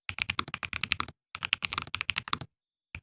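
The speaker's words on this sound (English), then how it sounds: "Okay, that's cool sounding keyboard." Rapid, close typing on a thocky mechanical keyboard in dense bursts of clacky keystrokes, a short pause, then another flurry and one final stray key press.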